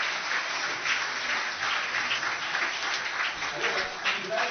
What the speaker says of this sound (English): you deserve a big applause for all what you have done